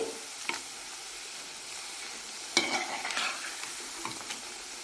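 Onion pakoda being turned in a pan with very little oil, giving a faint dry sizzle broken by a few sharp scraping stirs near the start, middle and end.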